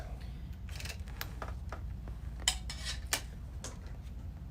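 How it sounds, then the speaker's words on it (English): Scissors snip sewing threads at a quilting machine in a few quiet, sharp clicks scattered over a faint background hum. "I'll cut my threads real quick"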